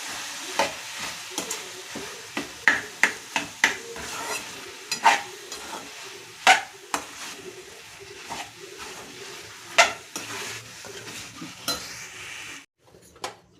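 A spoon stirs potato masala dosa filling in a pan, making repeated scraping strokes and sharp metallic clinks at an irregular rhythm. The sound is close and clear, with no talking.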